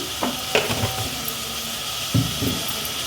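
Onions with salt frying in a pan for a dried fish curry, a soft steady sizzle under two bursts of stirring scrapes, no talking.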